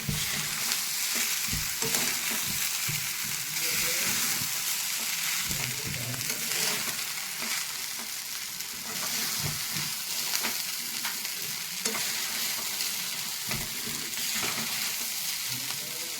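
Sabudana khichdi stirred and fried in a pan: a steady, close sizzle runs throughout, broken by repeated soft scrapes and knocks of a spoon against the pan, with no voices.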